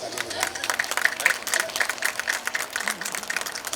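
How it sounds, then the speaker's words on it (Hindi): An audience at the Jashn-E-Inquilab event claps in a dense, fluttering burst of applause, loud and sustained over a few seconds with a voice faintly underneath. "आप लोग बहुत ठंडे पड़े हैं, जोर से तालियां बजाएं।"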